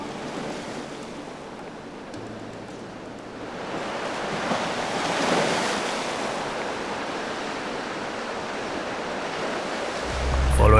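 Mediterranean surf washes onto the Albanian shore at an evening camp, a steady broad rush of breaking waves with some wind, no voices.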